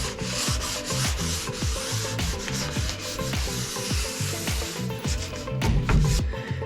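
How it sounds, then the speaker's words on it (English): A blade scraping and then 400 grit sandpaper rubbing over a painted wooden dining room bench. Steady, close rasping strokes repeat in a quick, continuous rhythm, alone. "I'm just doing a quick pass with the blade, and then I'm following it up with some 400 grit sandpaper"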